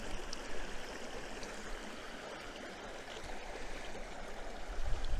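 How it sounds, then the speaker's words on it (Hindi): A steady rush of flowing stream water near Grey Mare's Tail and Loch Skeen in Scotland, continuous and moderately loud, with no voices over it. "थोड़ा सा पानी का शोर कम हो गया"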